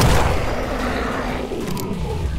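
Gunfire from the horror video game In Sound Mind, a dense burst of low booming shots packed together at the start, then a steady rumbling wash of game noise that stays loud throughout.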